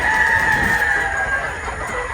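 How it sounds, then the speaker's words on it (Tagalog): A gamefowl rooster crows nearby in a long drawn-out call, with other fowl clucking in the background. "makadagdag tayo sa stress ng ating mga alagang manok."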